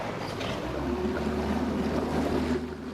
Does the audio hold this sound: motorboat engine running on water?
yes